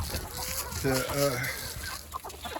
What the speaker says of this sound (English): I'm just feeding chickens.